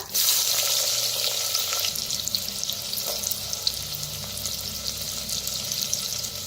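Mustard seeds, cumin, asafoetida and onion dropped into hot oil, giving a bright crackling sizzle at the start that settles into a softer, steady frying hiss with faint stirring.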